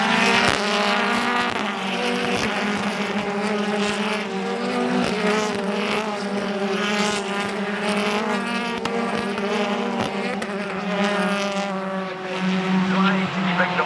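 BTCC touring race cars scream past at Knockhill, one on boost heading into turn one, with a continuous loud engine roar throughout and a commentator talking over it.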